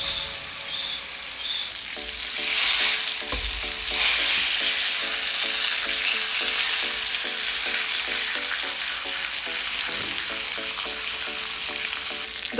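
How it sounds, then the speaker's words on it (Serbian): Pork fillet lowered into hot oil in a pan sizzles loudly and steadily, swelling into a stronger crackle after the meat goes in and then holding a dense, even frying hiss. "Ulje se zagrejalo i sada ću spustiti meso i propržiti sa svih strana."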